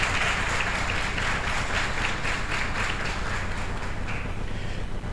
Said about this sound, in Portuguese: José Felipe da Rocha, a quem eu peço uma salva de palmas e parabenizo pela cidade.